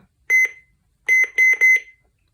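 A Midland 74-200 weather radio gives short electronic beeps, one double beep and then a quick run of three more, clear and close with silence between.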